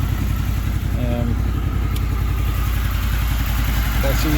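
A Honda VFR800 motorcycle engine idles steadily at 1200 RPM, a low, even rumble that holds without change from start to finish.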